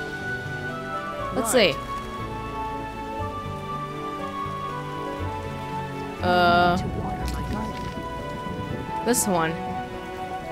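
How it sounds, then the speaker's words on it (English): Constant hiss of heavy rain in The Witcher video game, a steady downpour under a voice speaking briefly, with occasional swooping tonal sounds rising over it. "To this downpour."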